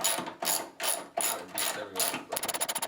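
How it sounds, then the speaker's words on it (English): A hand ratchet removing the upper radiator support bolts on an Abarth 500 front end, giving close, loud rhythmic bursts of clicking strokes that quicken into a rapid chatter at the end. "now we're removing the bolts that hold the upper portion of the radiator support on"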